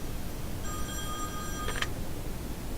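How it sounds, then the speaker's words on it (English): A telephone rings once in The Wolf Among Us video game, a short electronic bell trill with a clicking rattle at its end, over a steady low background hum. "I'm gonna answer the phone."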